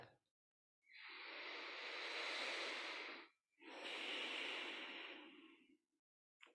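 Slow, deep breathing through the nose during a calm breathing exercise: two long, smooth airy breaths, each lasting a few seconds, close and alone, with a short pause between them.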